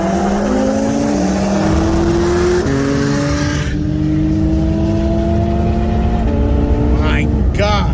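A tuned 2019 BMW M5 Competition running E40 fuel and a tuned 2017 Porsche 911 Turbo on 93 octane and methanol accelerate hard from a roll in second gear, their engine notes rising together through gear changes, loud and close, over wind buffeting.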